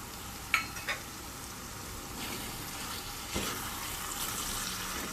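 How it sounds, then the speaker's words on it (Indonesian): Sambal goreng of potatoes and chicken liver sizzles steadily in a pan as it is stirred, a continuous frying hiss broken by a few scraping spoon knocks. "Diaduk sampai agak kering ya"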